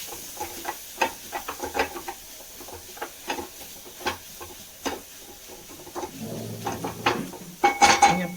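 A spoon scrapes and clinks against a pan while eggplant masala curry is stirred, with scattered knocks and soft scraping strokes at close range and a faint sizzle underneath, building to louder clatter near the end, with no voices.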